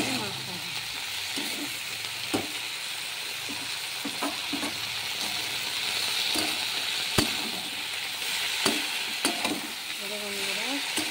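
Saag greens with chilli powder are stirred and fried in a pan, giving a steady sizzle broken by scrapes and taps of the spoon against the pan. The sound is close and continuous for the full duration, with no talk.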